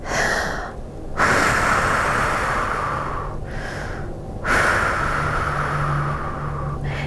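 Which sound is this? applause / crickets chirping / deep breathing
deep breathing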